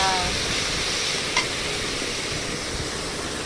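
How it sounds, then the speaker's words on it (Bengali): Steady sizzling of hechi shak greens frying in a pan, a continuous crackling hiss with a brief clink partway through. "এখন আমার শাকটা দিয়ে দিল, ভাজা ভাজা হয়ে যাচ্ছে"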